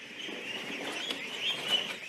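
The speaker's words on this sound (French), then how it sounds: "Ces canards sont des auxiliaires très précieux." Ducks on a Camargue rice farm call faintly in a short burst of distant quacks and chirps over a low outdoor hush.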